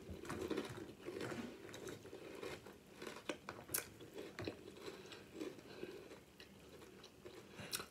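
Crunchy chewing of Sour Patch Kids cereal, close and steady, with repeated crisp bites and grinding mastication filling the whole stretch, no talking.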